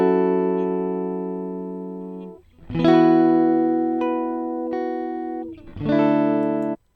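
Electric guitar recorded as a dry direct-input signal, with no effects, plays three sustained chords that ring and slowly decay, each cut off before the next strum.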